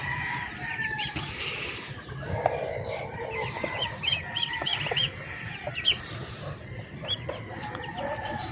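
Black Australorp rooster among hens in an outdoor pen, with repeated clucking and bird chirps over a steady rural background, no talking.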